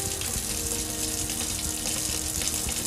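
Cold water runs steadily from the faucet of a Riverstone luxury fifth wheel RV during winterizing, a continuous close splashing flow into the sink with no talking.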